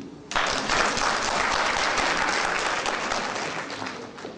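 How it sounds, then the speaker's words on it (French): An audience at a speech by the president of Burkina Faso's order of midwives breaks into applause, a sudden burst of dense clapping that stays steady and full, then slowly thins. "Mais applaudissez."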